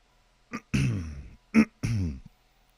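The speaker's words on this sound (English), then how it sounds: "Let me clear my throat" Someone clears their throat twice, each a short catch followed by a rough, rasping rumble, close and distinct with brief silence between.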